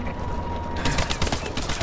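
Rapid automatic gunfire bursts in a Supremacy team deathmatch video game on PS4, dense crackling volleys starting suddenly after a quieter stretch, fairly loud and continuous.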